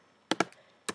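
Computer keyboard typing, two crisp key taps in quick succession, a pause, then two more, close and distinct in a quiet room.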